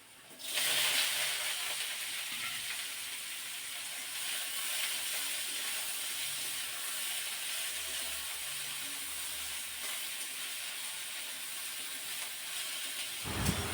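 Gime shak greens dropped into a hot pan to cook for a fish curry, a sudden loud hiss and steady sizzle that holds evenly for over ten seconds with no talk.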